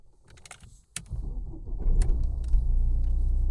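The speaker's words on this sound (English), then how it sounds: "Start the vehicle." A Mercedes-Benz A-Class starts up, a few faint clicks giving way to a starter crank and a low, steady engine idle rumble that builds and holds close by.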